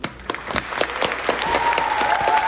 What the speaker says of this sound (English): Oh my God, bro, round of applause.